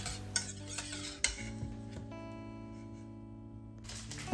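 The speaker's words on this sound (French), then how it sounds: "On mélange bien le tout et l'appareil à quiche est prêt." Quiche filling being stirred in a bowl after a spoonful of Italian spice mix goes in, with clinks of a utensil against the dish early on, then a quieter stretch of steady mixing, no talk.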